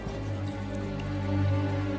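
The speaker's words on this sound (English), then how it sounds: "it's pouring rain" Pouring rain in a movie scene falls as a steady, dense hiss that swells slightly toward the end, with no one speaking over it.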